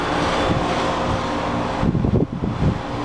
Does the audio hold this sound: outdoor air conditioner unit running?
yes